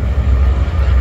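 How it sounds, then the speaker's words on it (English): A train passes near a roadside where a bus tire is being changed, giving a loud, steady, deep rumble that fills the short moment, with no voices heard. "Sorry about the train."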